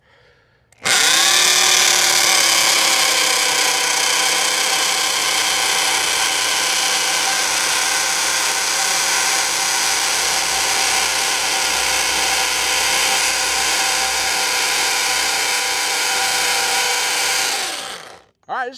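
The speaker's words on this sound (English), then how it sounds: "That's about as far as I could go with the drill." A power drill bores steadily into the ground at an off-grid solar build, a loud continuous motor whine with harmonic tones that holds for about seventeen seconds, then winds down and stops.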